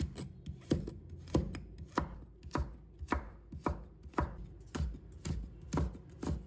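Half a carrot being sliced into thin strips with a knife on a cutting board: quick, regular, close chopping strokes that thud against the board in an even rhythm.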